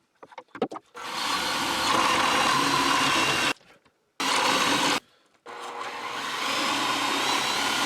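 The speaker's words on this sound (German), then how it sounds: "so bohre ich mir jetzt hier einige Löcher rein" A drill bores holes in wood in three long bursts with short pauses between, a loud whirring grind that follows a few light knocks at the start.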